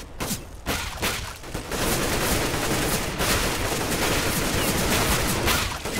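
Dense, continuous automatic gunfire from Counter-Strike: Global Offensive on the Bank map, with rapid overlapping shots that become sustained and loud after the first couple of seconds.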